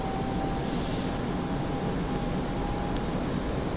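Steady broadband roar of a fixed-wing aircraft engine in the DCS flight simulator, flown at low speed, holding constant and loud throughout with a faint thin tone above it and no talking.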